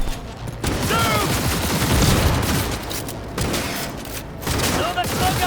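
Dense, continuous gunfire in the video game Cyberpunk 2077, rapid overlapping shots and bursts forming a loud fusillade with brief dips, over a busy combat soundscape.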